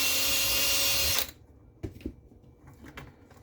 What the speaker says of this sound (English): run the drill through here